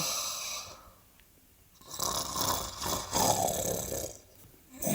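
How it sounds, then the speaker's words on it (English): A man snores under a blanket, pretending to sleep: a few loud, rough, drawn-out snorts after a quiet start, with gaps between breaths and no talking. "he was trying to snore under the blanket"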